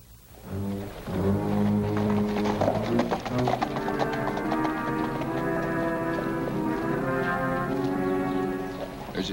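Horse hooves clip-clop steadily in a 1950s TV western, a rhythmic tapping gait heard beneath prominent orchestral music.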